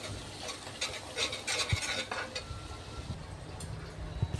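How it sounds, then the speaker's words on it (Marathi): Ginger and garlic sautéed in oil for crab masala, with a faint scraping stir of a utensil in the pan and quiet sizzling throughout. "चांगलं आलं लसणीला सगळं परतून घ्यायचंय तेलामध्ये"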